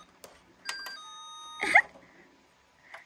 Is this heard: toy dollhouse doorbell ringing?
yes